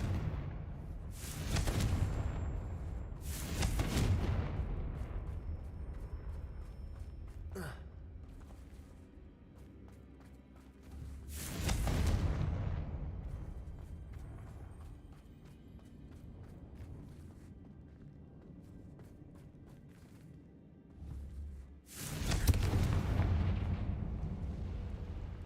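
Confringo fire spells exploding in the video game Hogwarts Legacy: four loud blasting booms with rumbling tails, spaced several seconds apart over a low continuous background.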